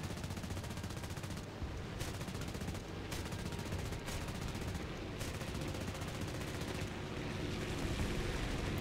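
Aircraft machine guns firing in War Thunder, a dense, loud, continuous rattle of rapid gunfire that holds without a break.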